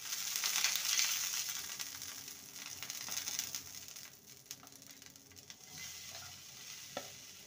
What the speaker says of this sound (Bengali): ঘি দেওয়ার পর যে খইয়ের মিশ্রণটা রেডি করে রেখেছিলাম সেটা দিয়ে দেবো।